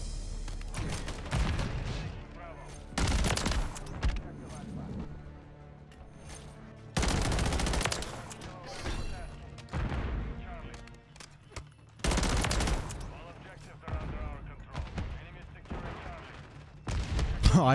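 Bursts of rapid gunfire from a BP50 rifle in the Modern Warfare video game, several loud volleys of a few seconds each separated by quieter gaps, with some speech mixed in.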